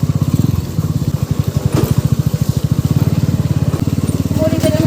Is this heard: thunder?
no